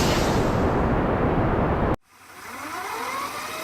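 Small rocket engine firing during a launch in Kerbal Space Program 0.22, a loud, dense roar that cuts off abruptly halfway through, leaving a quieter hiss with faint rising whines.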